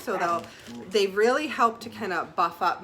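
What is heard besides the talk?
No distinct noise like a dog, phone or traffic.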